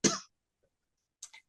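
A woman coughs in a lecture hall, one harsh burst at the start, then a short double cough after a pause, both close and loud with no talk in between.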